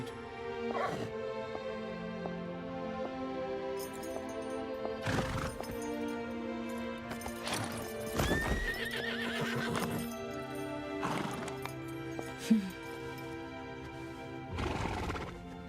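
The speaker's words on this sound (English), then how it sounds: "Oh, there's a horse." A horse neighs and whinnies several times over steady clip-clop hoofbeats in a video game, with music-like tones in the background and occasional dog-like yips.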